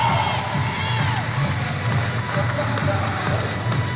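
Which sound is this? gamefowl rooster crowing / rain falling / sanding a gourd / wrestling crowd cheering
wrestling crowd cheering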